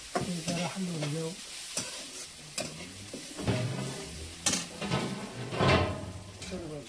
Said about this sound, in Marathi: कांदा आपला चांगला लालसर झाला. आपण जरा हलवून घेऊ.